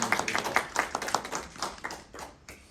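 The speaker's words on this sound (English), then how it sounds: "Would you just join with me in giving a little hand of applause to the people who got us here from Portland?" Conference attendees clap in a brisk, close stream of hand claps that thins out and fades by the end, with no talk over it.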